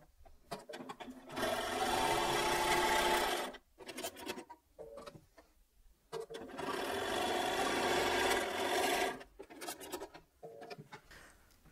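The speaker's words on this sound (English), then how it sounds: "I'm going to just go over to the sewing machine and I'm going to sew a quarter of an inch down here" A sewing machine stitches a quarter-inch seam in two long, steady runs of rapid whirring, separated by short pauses and soft handling of fabric.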